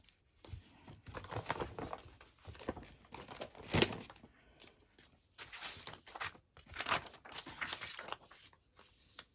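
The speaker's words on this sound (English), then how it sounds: "I might tear a little bit more off actually." Paper is torn by hand into pieces for an ephemera collage, a soft, quiet series of ripping and crinkling sounds repeating close by against low background hiss.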